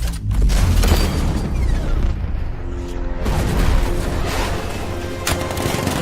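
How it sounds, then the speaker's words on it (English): Heavy cannon fire from the Batmobile's 60mm cannon in Batman Arkham Knight booms out in loud, rolling blasts that overlap one another and keep going without a break. "60mm cannon operational"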